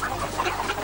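Chicken clucking in a rapid, close sound effect, a quick run of short clucks sounding loud and alone.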